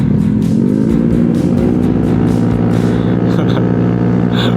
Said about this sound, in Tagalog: Ang lakas ng motor ni Sir Mel.